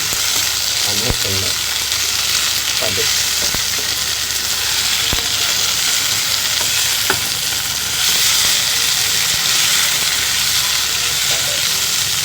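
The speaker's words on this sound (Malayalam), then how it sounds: "ഇപ്പോൾ നോക്കൂ നമ്മുടെ ചെമ്മീൻ ഇവിടെ നന്നായിട്ടൊന്ന് ഫ്രൈ ആയി വന്നിട്ടുണ്ട്" Prawns (chemmeen) sizzle steadily in a hot pan for a chemmeen masala fry, a dense continuous frying hiss with occasional clinks and scrapes from stirring.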